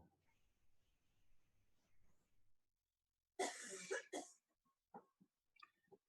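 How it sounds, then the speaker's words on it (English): A sharp, close cough bursts out after quiet background murmur, followed by a second cough and softer throat-clearing sounds. "Whoever's coughing"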